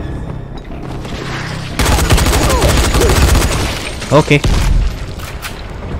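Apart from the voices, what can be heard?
gunfire and grenade explosions in video game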